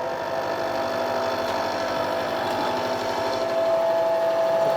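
A milling cutter takes a heavy cut out of a large chunk of a metal part for a lathe sine bar fixture, turning a little under 500 RPM at a fairly slow feed: a steady, continuous machining drone, with a faint high whine near the end.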